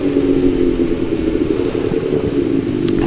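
Motorcycle riding as heard from inside an HJC RPHA 1N racing helmet: a steady, loud engine drone and rumble with wind buffeting, continuous throughout with no talk.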